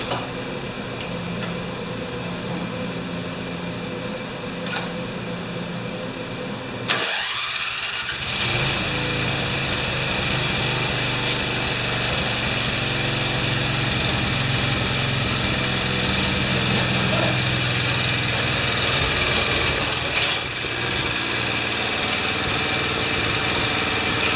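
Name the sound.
lawn mower engine starting and running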